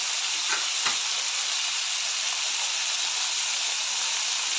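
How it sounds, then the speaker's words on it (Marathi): Potatoes and pavta (broad) beans with turmeric and asafoetida sautéing in a pan for bhaji, a steady close sizzling hiss that holds constant throughout, with no voices. "सर्व मिक्स करून चांगलं परतून घेऊया"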